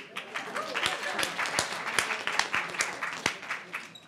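An audience applauds at an evening civil-discourse speaker event, a steady patter of many hands clapping at moderate level throughout, with sharp individual claps standing out.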